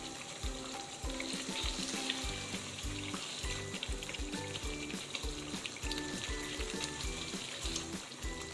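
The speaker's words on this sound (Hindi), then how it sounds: "हमने गोश्त को अच्छे से भून लिया है और ऑयल भी ऊपर आ चुका है।" Mutton pieces fry in oil in a pan over a high flame for a dhanya gosht salan, giving a continuous crackling sizzle with rhythmic stirring scrapes and no talk.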